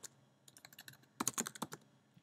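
Short burst of typing on a computer keyboard while naming a content type, a quick patter of close, crisp keystrokes that speeds into a denser flurry near the end, alone and fairly quiet.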